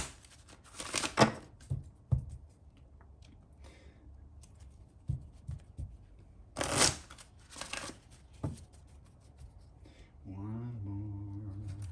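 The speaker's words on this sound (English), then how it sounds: "we're gonna give these a different shuffle really quick" Oracle cards being shuffled by hand in a few short riffling bursts with quiet gaps between, ending in a low tonal hum; no talk.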